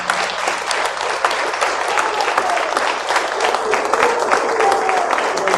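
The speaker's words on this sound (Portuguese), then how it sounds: "Vamos dar uma salva de palmas para Jesus." A congregation at a church vigil breaks into sustained, lively applause, with many hands clapping in a steady, dense wash that holds for several seconds without talk.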